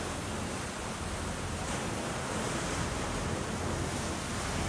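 Ocean waves two to three metres high roll along a Thai coast, a continuous dense roar of surf heard at steady loudness with no voices.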